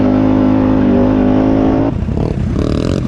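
Can-Am Outlander 850 XMR ATV engine while riding, a loud, close, steady droning roar that drops off abruptly, then rumbles and clatters unevenly at lower revs.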